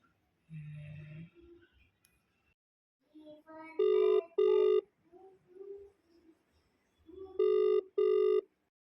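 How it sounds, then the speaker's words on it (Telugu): A telephone rings in two double bursts, loud and close, with a few quieter tones and a brief low voice before the rings. "రింగ్ అవుతుంది"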